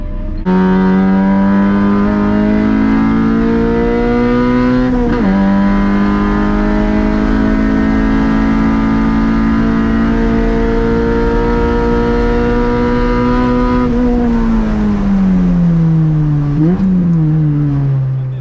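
A B20 VTEC Honda Civic hatchback is driven hard on a race track, its engine droning loud and steady at high revs throughout, with brief dips at shifts and a rising climb near the end.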